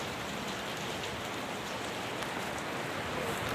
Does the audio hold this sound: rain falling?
yes